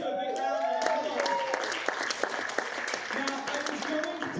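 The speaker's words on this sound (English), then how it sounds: "Give them a big round of applause." A theater audience at a live variety show claps in a sustained round of applause, with sharp individual claps standing out over music and voices beneath.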